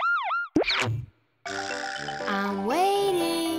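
A cartoon-style police car siren in a toddler learning program wails with a rising and falling tone after playful boing effects, and a voice speaks briefly over it.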